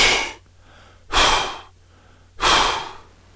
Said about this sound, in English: they are soft inhalation and then a forced exhalation through pursed lips